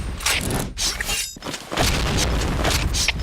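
Grenade blasts in the Point Blank shooter game: loud, broadband booming bursts with a brief gap of near silence, then a sustained rumbling roar of debris and noise.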